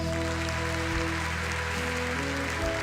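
Steady applause from a crowd fills the space continuously, with a sustained musical tone droning underneath.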